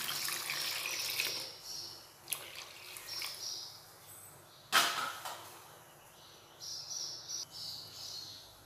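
Water being added to a pot of sambar while cooking makes a running, splashing pour, with several bursts of sound and a louder splash near the middle.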